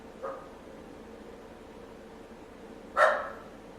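A dog gives two short, separate barks, the first fairly soft and the second louder and sharper, over a quiet indoor background.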